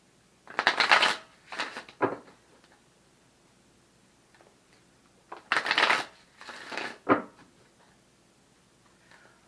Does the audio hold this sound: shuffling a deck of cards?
yes